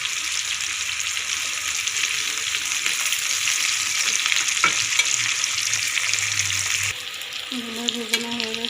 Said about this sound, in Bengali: তেলে ভেজে দিলাম এগুলোকে